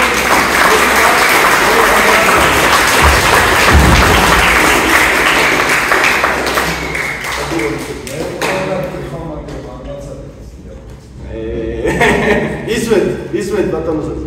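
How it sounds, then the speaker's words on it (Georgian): Applause from the room at a Georgian professional boxing press conference for a championship belt fight, broad steady clapping that swells around four seconds and then thins out, with people talking over it toward the end. "აპლოდისმენტები ბიჭებს"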